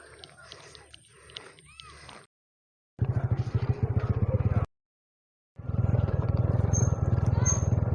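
A motorcycle engine drones in loud, steady bursts during a ride near Tanay, broken by short silent cuts, with talk and some background noise in the first part.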